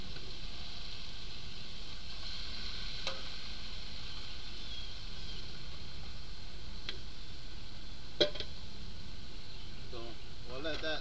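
Salmon sears in a hot pan on a home stove, giving a steady, continuous broadband sizzle with a few faint ticks and a small sharp knock, while a person talks over it.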